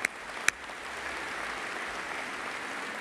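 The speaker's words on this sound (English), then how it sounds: "Let's just give them a round of applause." Audience applause at the SolidWorks World 2014 general session, a steady wash of distant clapping from a large hall after two sharp nearer claps at the start.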